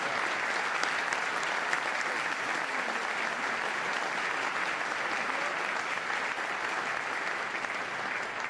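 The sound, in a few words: applause for distinguished guests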